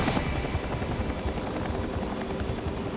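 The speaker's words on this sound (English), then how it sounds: "As helicopters come and go" Helicopters fly near a flooded New Orleans hospital after Hurricane Katrina, a loud, continuous rotor drone with rapid blade thumping that stays steady and close throughout, with no voices.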